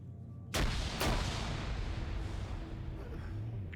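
Two heavy booms of a grenade blast in a combined-arms war game, arriving in quick succession and followed by a long rumbling roar that fills the rest of the moment.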